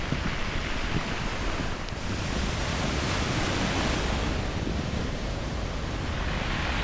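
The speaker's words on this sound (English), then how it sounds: "Lovely sound of the waves crashing against the pebbles." Waves crash against a pebble shore on Tenerife, a continuous loud wash of surf and rolling stones with a gusty, wind-buffeted roar throughout and no voices.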